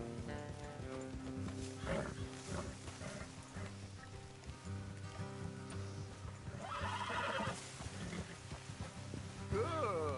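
Horses neigh and whinny over a continuous hum of game ambience and music in Red Dead Redemption 2, with faint hoof clip-clops in the background.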